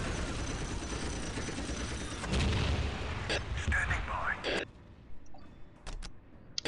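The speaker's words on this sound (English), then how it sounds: "we're just gonna keep dropping artillery shells till we win the mission" Artillery shells boom and crackle in a Dawn of War Soulstorm Imperial Guard battle. Dense, rumbling blasts and gunfire run throughout, and later come sharp isolated impacts, all mixed with in-game sound and voices.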